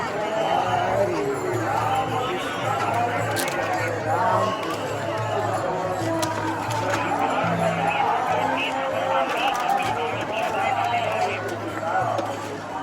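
Dense crowd of pilgrims on the Pandharpur wari procession route, a constant loud babble of many voices and footsteps with a low droning tone underneath, close and unbroken throughout.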